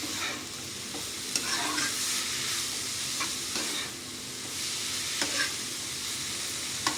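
Chopped beans and ginger sizzle in a hot pan while a spatula stirs them, giving a constant loud frying hiss with sharp scraping clicks at irregular intervals.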